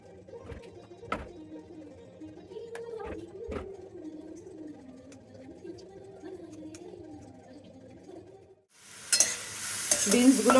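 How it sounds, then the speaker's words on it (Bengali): Chopped green beans fry in a pan at low level, with a gentle sizzle and occasional spatula knocks, then a louder burst of hissing sizzle near the end. "বিনসটা কেটে দিয়ে দিয়েছি ভাজতে"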